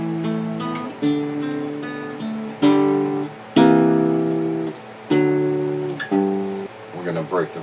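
Guitar strumming a song's chord progression, several ringing chords struck one after another with decaying sustain, close and clear.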